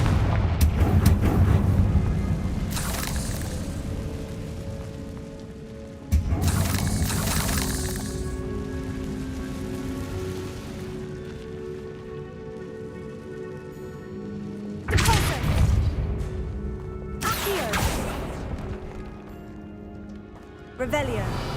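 Fire spells burst in Hogwarts Legacy in several sharp, booming explosions spaced through the passage. Each is followed by crackling decay, and speech and game sounds continue in between.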